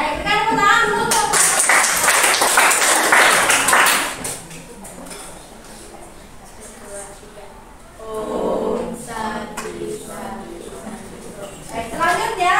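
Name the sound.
classroom applause for a presenting group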